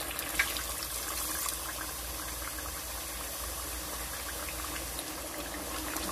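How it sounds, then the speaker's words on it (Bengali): Water is poured into a pot of sautéed duck meat, giving a soft, continuous liquid rush over a low steady background hum. "দিয়ে দেবো পানি।"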